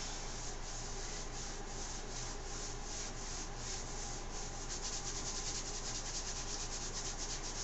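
Tape is being rubbed onto the skin of a chest, giving a faint, continuous scratchy friction in quick repeated strokes, with no speech.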